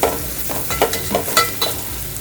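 Poha ingredients being mixed together in a bowl, a run of rhythmic scraping and stirring strokes roughly every quarter second, loud and close with no talk.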